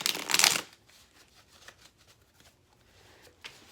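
Tarot cards are shuffled up close in one brisk, loud riffle lasting about half a second. A few soft card taps and handling sounds follow, then a brief flick at the end.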